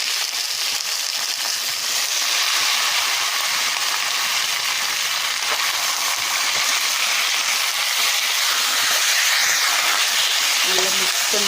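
Chicken pieces go into a hot pan with kasuri methi for a potato chicken roast, giving a bright, steady sizzling hiss that runs unbroken throughout.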